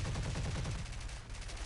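Rapid automatic cannon fire from a BF109 G-6/R5 fighter plane in the War Thunder air-combat game, a dense rattling burst that is loud and close, then fades into engine noise within a couple of seconds.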